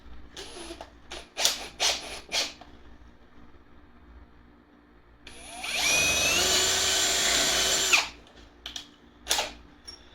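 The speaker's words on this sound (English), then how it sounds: "we're going to drill out those threads" Several sharp knocks and taps, then a more powerful power drill drills out threads in a Takahashi EM-200 riser, running steadily for about three seconds before stopping, followed by more clatter.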